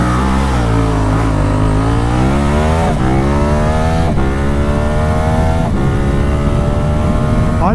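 A KTM 1290 Super Adventure S motorcycle accelerates hard from a standstill at a toll booth, pitch climbing, dropping at each gear shift, then climbing again, sustained and close throughout.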